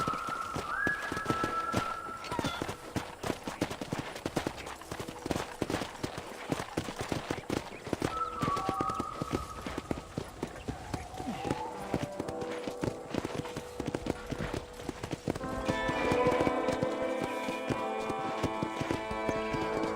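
Horse hooves clip-clopping at a walk in Red Dead Redemption on a ranch, a steady rhythmic patter running throughout, with a couple of brief tonal whinny-like calls and a musical passage rising near the end.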